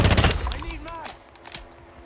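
Video-game gunfire opens with a dense, loud burst of rapid shots, then thins to scattered, quieter reports while a voice talks over them.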